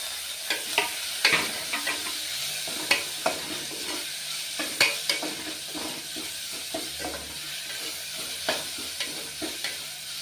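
Tomatoes sizzle and fry in a pan for a Telugu sorakaya (bottle gourd) and chana dal curry, with steady close hissing and repeated scraping spoon strokes as they are stirred.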